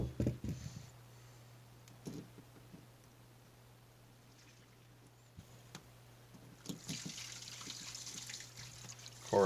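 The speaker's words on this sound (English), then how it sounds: "So that's the water you hear in the background. She's taking a shower." A home shower runs in the background at night, a soft, steady hiss of water throughout, growing a little louder and brighter toward the end, with faint handling clatter and no speech.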